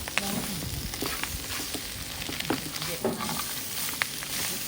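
Snakehead fish stir-fries with chili and pork cracklings in a hot pan, a dense crackling sizzle broken by scraping spatula strokes and clinks, close and moderately loud.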